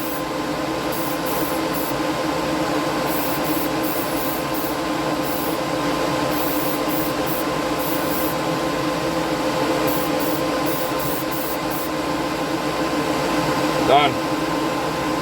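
An airbrush sprays Outlaw paint onto a chassis with a continuous hissing flow that stays even throughout, joined by a brief blip near the end.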